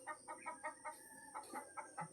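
A hen clucks in a quick, regular series of short nasal calls, about ten in two seconds, fairly faint and alone, in a backyard setting.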